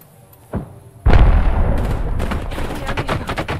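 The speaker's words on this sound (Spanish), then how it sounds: "¡Me disparan! ¡Están atacando!" Gunfire in the Apex Legends shooter: a soft thump, then a loud, sustained volley of rapid shots starting about a second in and rattling on continuously to the end.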